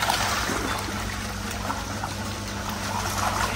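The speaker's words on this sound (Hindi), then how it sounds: "ये पानी कम हो रहा है" Water draining out of a biofloc fish tank, a steady close trickling and gushing flow that runs continuously without pause.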